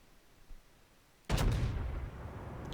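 Naval gunfire in a World of Warships battle: after a quiet moment, a single sharp, heavy boom hits and rolls off into a lingering rumble.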